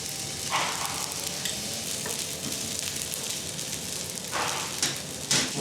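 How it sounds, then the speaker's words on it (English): Chopped scallops, onion, ginger and rice sizzle in a frying pan, a steady bright crackle of frying that runs throughout with occasional louder spatters and stirring, and no one speaking. "Chopped onion, ginger, rice, and the chopped scallops are sautéed, and scallop sauce is added to the frying pan."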